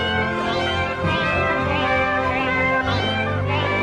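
A cat food commercial jingle plays, with sung meowing repeating in a melodic, rhythmic pattern, loud and clear and without talk over it.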